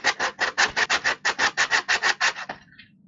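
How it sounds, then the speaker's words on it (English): Hand sanding a stack of carved wooden penguins: about sixteen quick, even rasping strokes in a steady back-and-forth rhythm, close and alone, ending with a softer final scrape. "I always find this like the most soothing part, just like sitting here and sanding"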